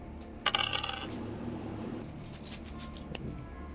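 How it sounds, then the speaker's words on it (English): Dice for a D&D session, including a d6, clattering across a hard surface: a sharp cluster of rattling hits, then a quieter single clack, faint and close with nobody speaking. "Now roll the dice that's next to that with the plus, and then also roll a d6."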